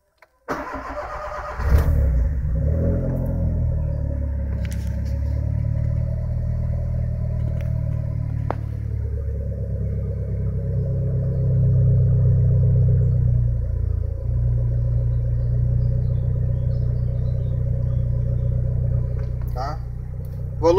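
A car engine cranks and catches, then settles into a steady low idle that runs on, with someone speaking over the rumble.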